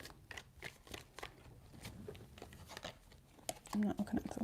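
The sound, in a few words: tarot cards being shuffled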